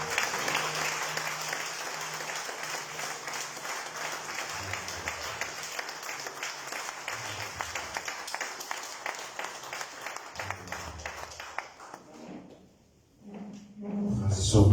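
A church congregation applauds steadily to acclaim the Lord during a Sunday worship service, a dense, sustained wash of clapping that holds for about twelve seconds before thinning out and fading.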